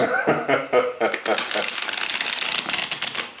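Close riffling and flapping of cards being shuffled, crisp papery bursts in quick succession, with a voice briefly speaking or laughing early on.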